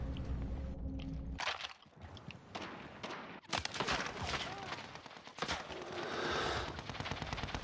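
Bursts of machine gun fire in Call of Duty: Modern Warfare, loud and close, with rapid volleys broken by short gaps and layered with other battlefield noise.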